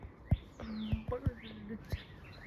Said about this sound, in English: It's a bird. That's a bird. Cool bird.